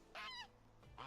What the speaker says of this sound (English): There's some little geeses here, some baby geese.